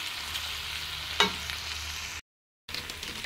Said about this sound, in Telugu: ఇదంతా బాగా మిక్స్ చేసుకొని ఇప్పుడు ఇది కొంచెం ఫ్రై అవ్వనిద్దాం